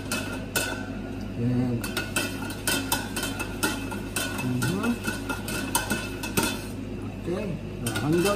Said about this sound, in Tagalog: Hanggang matunaw yung baking soda natin. Mix it well. Mix it properly.